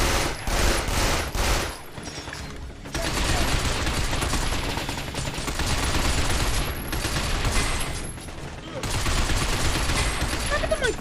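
Sustained automatic gunfire in the Binary Domain third-person shooter, dense loud fusillades broken by brief pauses, rattling continuously over roughly eleven seconds amid a noisy battle mix.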